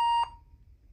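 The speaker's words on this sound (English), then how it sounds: "Press and hold to record a name after the beep." One short electronic beep from a Gemmy Talkbax pug toy's name recorder, a clean pure tone lasting a quarter second, then quiet with faint background hum.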